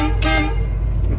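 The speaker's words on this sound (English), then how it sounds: "We've got a better horn." Loud, close blast of the horn on a 2006 Iveco Powerstar prime mover truck, a single steady honk over the rumble of the running engine.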